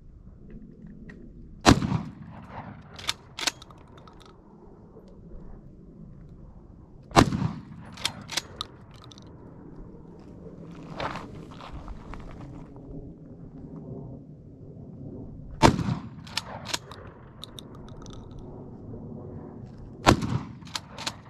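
Mossberg 590M 12 gauge magazine-fed shotgun fired at a shooting range, five loud sharp blasts spaced several seconds apart, each followed by a short echoing decay and faint handling noise between shots.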